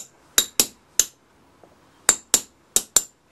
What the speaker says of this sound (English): Tap the pattern around a little bit just to loosen it off in the sand.